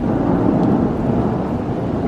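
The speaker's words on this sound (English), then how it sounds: "there's a storm going on again outside" Thunder rumbles low and heavy through a storm outdoors, a sustained loud roll with rain noise and no talk.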